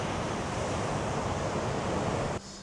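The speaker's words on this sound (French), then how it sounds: "Les vagues sont énormes." Large ocean waves breaking on a beach in Kauai, Hawaii, a loud continuous roar of surf and rushing water that fills the scene, cutting off abruptly near the end, with no voices.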